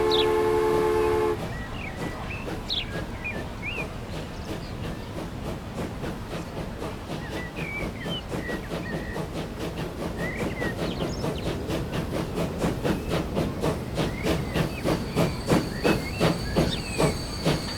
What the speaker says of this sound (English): Here comes another train.